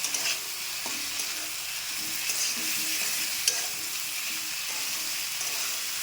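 Pointed gourd (potol) added to a pan of spiced oil, sizzling steadily with intermittent stirring clinks and scrapes, close and moderately loud.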